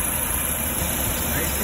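A 1986 Toyota 4Runner with a newly installed engine idles steadily on its first start, giving a smooth, even hum with a constant high whine throughout.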